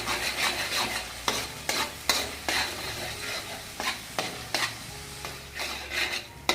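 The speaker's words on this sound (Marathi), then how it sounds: "याला आता तेल सुटेपर्यंत आपल्याला असं हलवत राहायचं याला" A ground masala paste is stirred in oil in a pan, with steady sizzling and frying under repeated scraping strokes of a spoon against the pan, close and clear with no talk.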